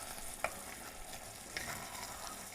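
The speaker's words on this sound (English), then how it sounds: "Keep that boiling." A soft, steady bubbling and sizzling of wine boiling down in a pot for French onion soup, with a couple of light clinks from a utensil.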